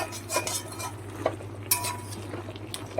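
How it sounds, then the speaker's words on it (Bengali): A spatula stirs a thick pui shak and shrimp curry in a pan, giving several scraping, clinking strokes over a low steady kitchen hum, close and moderately loud with no talking. "নাড়িয়ে চাড়িয়ে দিয়ে যতক্ষণ মাখো মাখো না হচ্ছে তরকারিটা কিন্তু একটু নাড়াচাড়া করে রেডি করতে হবে"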